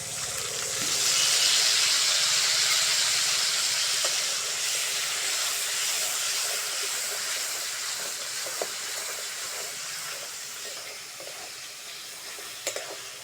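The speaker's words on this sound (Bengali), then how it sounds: "তেলের মধ্যে দিয়ে দেবো মশলাটা।" Spice paste, for a jackfruit curry, hits hot oil in a pan with a loud, bright burst of sizzling that gradually eases into a steady hiss, with a few faint pops and clinks.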